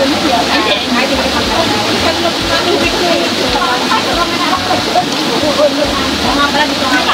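Sui Ma stream at Braemar Hill, Hong Kong, flowing steadily with a loud, continuous rushing splash close by, as water tumbles over rocks, while people chat over it.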